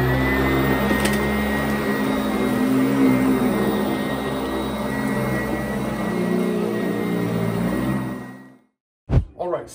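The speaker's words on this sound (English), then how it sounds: "like this vacuum is it has a 24-inch wide front, plus you got a magnet on here." A carpet cleaning vacuum with a 24-inch wide front and a magnet runs with a loud, steady roaring drone, then cuts off abruptly near the end, followed by a couple of close knocks.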